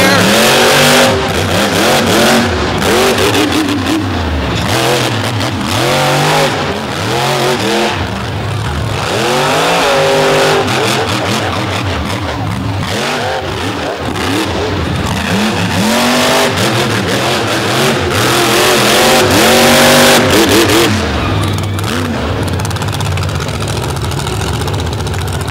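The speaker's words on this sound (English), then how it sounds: "One of the real outlaws of monster truck competition today, Joe Sylvester," Monster truck engines roar at a crowded competition in Brooksville, loud and dense, with repeated revving swells and rises over a continuous rumble for about twenty-five seconds, with an announcer talking over much of it.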